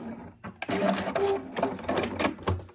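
A sewing machine stitches a mug rug, running in quick bursts of rapid mechanical needle chatter with brief pauses, close and fairly loud.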